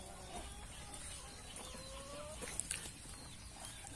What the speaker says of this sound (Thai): แมงเม่าออกมาเยอะมากเป็ดไก่ไล่กินกัน